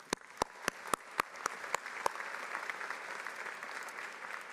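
A commencement audience applauds the staff at a university ceremony, dense clapping that swells steadily and carries on, with a series of sharp, evenly spaced percussive strikes cutting through during the first two seconds.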